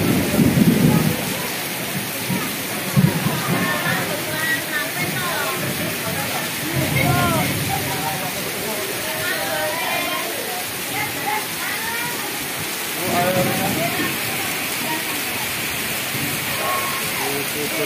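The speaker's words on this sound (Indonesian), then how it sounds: "Jadi luar biasa hujannya sampai gelap seperti itu." Heavy rain pours steadily and loudly over a school grounds during a storm with strong wind, a dense continuous roar with occasional rumbles, while a voice talks faintly beneath.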